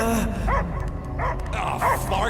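A dog in the video game Marvel's Guardians of the Galaxy gives several loud, close barks and yips at a steady pace over a background of game ambience.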